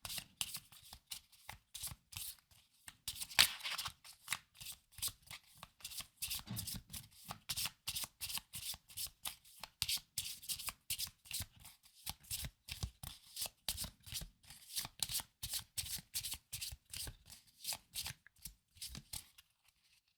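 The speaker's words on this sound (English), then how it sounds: "We'll shuffle up our remaining cards so that we can pass them on" Magic the Gathering trading cards from a Kamigawa Neon Dynasty pack shuffled close up by hand: repeated riffle bursts of crisp flicking paper, each a second or so long, in a steady rhythm over twenty seconds with brief pauses between.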